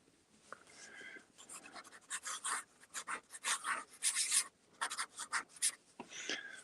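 A pen's nib scratches across paper in quick bursts of signing strokes, with short rasping scrapes and brief pauses between them, close and fairly quiet.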